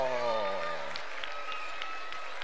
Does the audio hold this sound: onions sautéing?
no